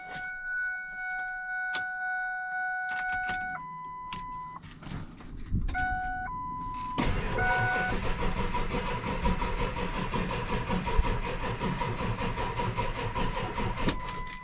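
Diesel engine cranked over from a JFEGWO 6000A jump box: a dashboard warning chime plays first, then the starter engages and the engine churns steadily for several seconds, close and fairly loud.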